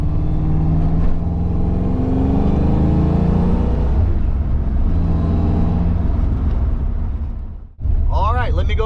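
Ford Foxbody Mustang driving with a fresh clutch: a loud, steady engine drone and road rumble rising and easing through gear changes, cutting out briefly near the end before resuming.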